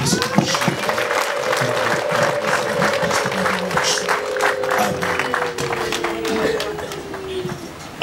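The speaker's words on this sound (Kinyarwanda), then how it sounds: "Reka tugukurire ubwatsi tugukomera amashyi twese tugushimire." Applause and cheering from guests at a wedding ceremony, continuous dense clapping close by, with a voice carrying a long sustained note over it.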